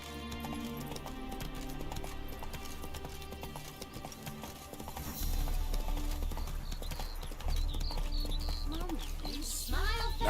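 Roach the horse galloping in The Witcher 3, hooves clip-clopping in a quick rhythm under music, growing heavier and louder partway through, with a voice briefly speaking to the horse.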